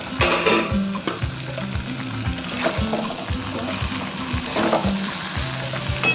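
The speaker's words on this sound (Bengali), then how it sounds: "এটাকে ভালো করে মশলার সঙ্গে কষাবো" Jackfruit (echor) sautéing with spices in a covered pan on a low flame sizzles steadily up close, with a regular rhythmic tapping or clatter running through it.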